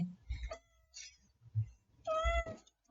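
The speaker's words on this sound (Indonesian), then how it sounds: "diganggu kucing." A cat meows twice close by, a short cry followed by a longer, drawn-out one after a brief pause, with no talking.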